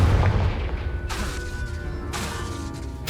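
A Confringo spell explosion in Hogwarts Legacy, a loud booming blast with crackling, shattering debris that fades into a low rumble, followed by further sharp bursts, close and without speech.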